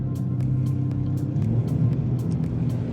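Sea-Doo Switch pontoon boat engine rumbling steadily as the craft takes off and manoeuvres away, a continuous low drone with faint rhythmic slapping, close and fairly loud with no talk.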